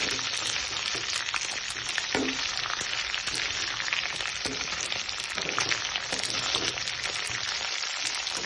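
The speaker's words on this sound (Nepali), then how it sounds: "यसरी हल्का ब्राउन हुने गरी फ्राई गर्ने मासु।" Chicken pieces frying in a pan for a curry until lightly browned, giving a steady, dense sizzle with crackling pops throughout, close and continuous with no talk.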